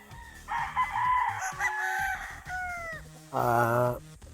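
A Paul's Park Gray gamefowl rooster crows loudly and close, with a couple of drawn-out calls and clucks from other fowl nearby in a game farm.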